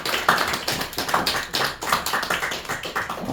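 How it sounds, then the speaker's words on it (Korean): A congregation at a religious gathering claps together in a steady, repeating rhythm, with loud bursts of many hands striking at roughly regular intervals and no talking. "박수치고 뭐 크게 쳐야지"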